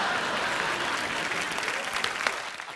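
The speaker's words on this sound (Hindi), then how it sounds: "बड़ी बड़ी तालियां।" Dense, steady applause from a studio audience on a Hindi TV comedy talk show, a continuous wash of clapping at moderate level throughout with no one speaking over it.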